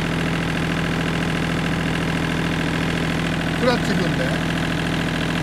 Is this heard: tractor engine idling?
yes